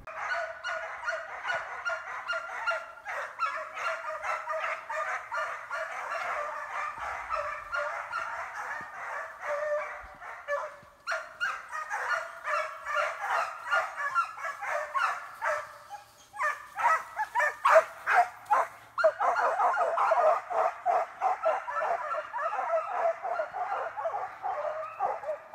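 A pack of hunting dogs bays and barks excitedly in a continuous, overlapping chorus while on the run, the yelps rising and falling in rapid bursts and growing louder and denser toward the end.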